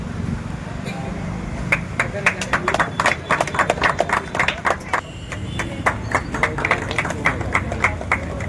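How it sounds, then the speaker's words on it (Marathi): Crowd applause for participants at a 25th walking race, with scattered hand claps coming in uneven bursts over a steady background murmur of people talking. "जोरदार टाळ्या होऊ द्या."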